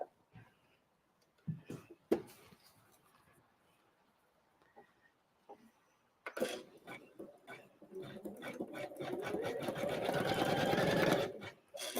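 An embroidery machine stitches a blanket stitch around a Christmas card. A few scattered clicks and handling sounds come first, then a loud, fast, continuous rattling whir from close by.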